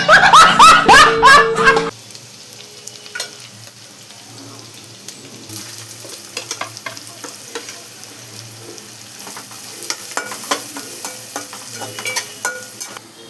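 Onion, chili, ginger and garlic stir-fried in a pan for vegetable fried rice, a soft sizzle with scattered spatula clinks and scrapes, following a short loud burst of running water or clatter at the start.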